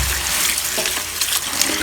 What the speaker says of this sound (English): I'm basically just going to wash these and then I'm going to put them in salt water to soak